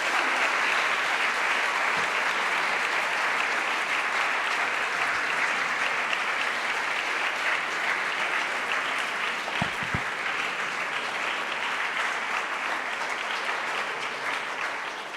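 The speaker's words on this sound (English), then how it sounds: "So I think we can give a first round of applause of the second." An award ceremony audience gives a long, even round of applause, many hands clapping steadily and fairly distant, holding without a break for the whole stretch.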